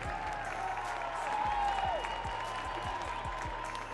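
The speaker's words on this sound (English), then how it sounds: "how about a big round of applause for our MMA fight of the evening?" Audience applause and light cheering at an MMA fight night event, a moderate crowd clapping over a background of music with a steady beat and tonal lines.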